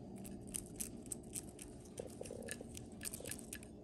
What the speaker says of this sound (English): And this is so crunchy.